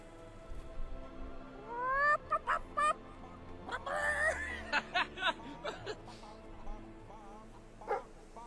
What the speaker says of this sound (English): Are the chickens singing?